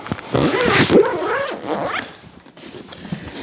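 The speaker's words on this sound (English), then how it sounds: "Zip her up." A zipper closes a DJ speaker system bag for an RCF EVOX JMIX8 setup, giving a few quick raspy pulls up close with short gaps between strokes.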